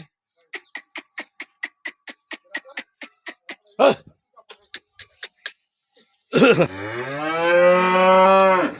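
A run of evenly spaced clicking taps and a brief low grunt, then a pregnant cow lets out a long, loud moo close by.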